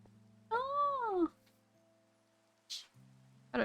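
One clear, drawn-out cat meow from Minecraft rises and falls, followed later by a brief soft noise against quiet background tones.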